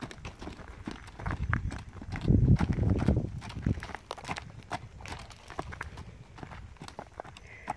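Hoofbeats of a horse trotting around a round pen, a quick rhythmic clip-clop on soft footing that swells loudest in the middle and then fades, with no talking over it.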